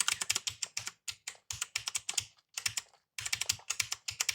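Rapid bursts of key clicks from a compact 60% mechanical keyboard being tested, short irregular runs of crisp close-up keystrokes separated by brief pauses, with no talking.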